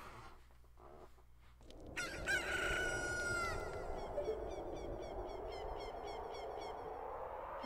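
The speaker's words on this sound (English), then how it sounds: "I had a rooster crow." A rooster crowing in the video game The Legend of Zelda: Ocarina of Time, one loud drawn-out cock-a-doodle-doo rising after a quiet moment over game music.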